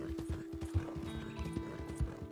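Hooves of a strawberry roan Ardennes horse clip-clop steadily in Red Dead Redemption as it is ridden in Chapter 6, a brisk, even rhythm of close, moderately loud thuds with nothing else over them.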